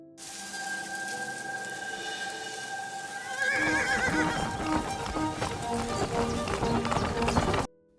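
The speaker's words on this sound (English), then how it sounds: "And then, a carriage arrives." Horse-drawn carriage pulling up: a horse whinnies over a steady sustained tone, then rapid clip-clopping hooves and rolling clatter swell loud and close before cutting off abruptly.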